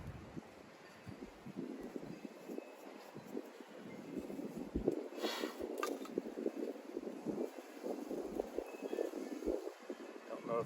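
Steady wind buffets the microphone outdoors during bow drilling on a 2x6 board, a continuous low rushing roar with gusty swells and no other clear sounds.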